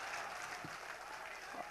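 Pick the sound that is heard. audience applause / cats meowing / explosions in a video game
audience applause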